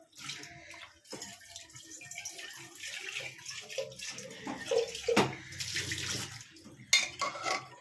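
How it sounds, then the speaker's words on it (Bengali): Water runs and splashes as a soaked tea-leaf bundle is wrung out over pressure-boiled chickpeas in a kitchen, a steady trickling with occasional drips and a light clink of a pot. "এবার আমি এটাকে নিগড়ে বার করে আনবো।"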